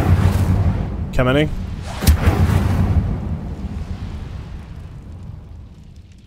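The Incendio fire spell cast in Hogwarts Legacy: a loud whooshing burst of flame at the start that rumbles and fades over several seconds, with someone talking over it.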